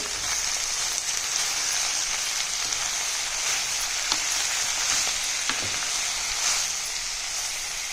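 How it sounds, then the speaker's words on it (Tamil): Red ponnanganni greens sauté in a pan with a continuous bright sizzle that sounds like rain, steady and close, punctuated now and then by light stirring scrapes. "கொஞ்சம் பச்சை வாசனை போகிற வரைக்கும் வதக்கலாம்"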